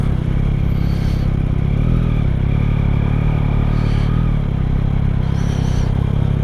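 A 2023 Yamaha MT-09 motorcycle engine hums loudly and steadily while being ridden, a constant low rumble with wind noise and slight swells in revs, no voices.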